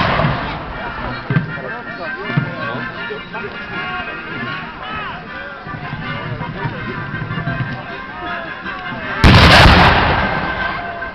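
Muskets and cannon fire during a Napoleonic battle reenactment at Koźle Fortress in 2011, with scattered shots under continuous commentary and crowd noise, then a loud, sustained blast near the end.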